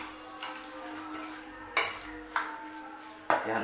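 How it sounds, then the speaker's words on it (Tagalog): A utensil stirs spicy tahong sisig with pork liver in a pan, giving a few sharp metallic scrapes and clinks spaced about a second apart over a soft sizzle. "Haluin lang natin."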